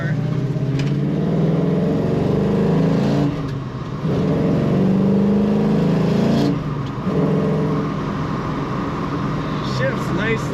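A 1974 Plymouth 'Cuda with a four-speed pistol-grip manual runs nearby, its engine droning steadily with brief dips and rises as it shifts, while someone talks over it.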